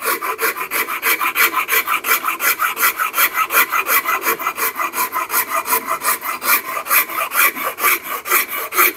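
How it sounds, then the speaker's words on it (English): A rasp files the wooden handle of a double-bit cruiser axe, smoothing the transition below the head, in steady rhythmic back-and-forth scraping strokes, close and loud with no talk. "You can tell I'm running the rasp over this transition because I want to smooth that out."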